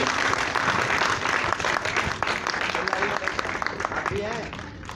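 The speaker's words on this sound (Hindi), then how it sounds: "तालियां होनी चाहिए इन लोगों के लिए" A large audience at an event applauds loudly and steadily, thick clapping with scattered voices mixed in, tapering slightly toward the end.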